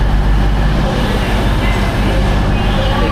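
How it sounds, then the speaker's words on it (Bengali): Train station ambience in the Peak District, a loud, constant rumble of engines and traffic-like noise that fills the whole moment, with a voice talking underneath. "ট্রেন স্টেশনে এসে বসছি,"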